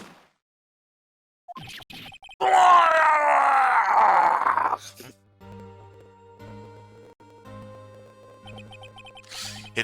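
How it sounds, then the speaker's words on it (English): A loud, drawn-out dramatic scream from the video game Ace Attorney Trilogy rings out for about two seconds, followed by quieter game music and effects. "It's that scream I heard in the elevator"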